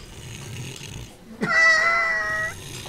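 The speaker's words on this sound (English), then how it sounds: "Is that snoring?" In the video game Judgment, a passed-out woman lets out one loud, buzzing snore-like breath lasting about a second, after a short dull thud and a quieter stretch of room tone.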